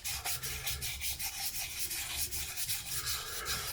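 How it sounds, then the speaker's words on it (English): Sanding a rusty VW engine part, a steady, close, continuous abrasive rubbing with a regular back-and-forth rhythm throughout, no voices. "Let's try sanding that a little bit."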